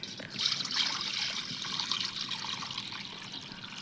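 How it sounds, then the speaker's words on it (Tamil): Water splashes and trickles steadily into a kadai, a continuous bright pouring sound at moderate volume with no talking. "தண்ணி கொஞ்சம் ஊற்றிக்கலாம்."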